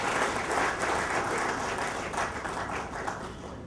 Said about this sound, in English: So I think we deserve another round of applause.